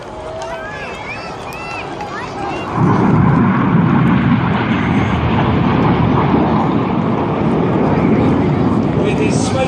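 Red Arrows display jets pulling up in formation while trailing smoke, a loud broad roar that swells sharply a few seconds in and holds steady, with a commentator talking over it.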